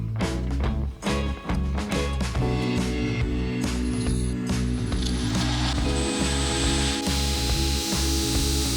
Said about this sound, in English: try to hold them pieces together so I can put them on the belt sander and get them all